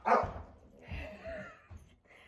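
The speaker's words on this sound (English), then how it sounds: "We have a cranky dog." A dog gives a sharp bark, then a few softer whines and yips, close by and indoors, with no one speaking.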